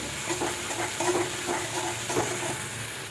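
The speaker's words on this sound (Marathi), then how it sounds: "आता ही मिरची ना तुपामध्ये चांगली परतून घ्यायची" Green chili sautéing in hot ghee, a steady soft sizzle and hiss with intermittent stirring scrapes, moderately close and without talk.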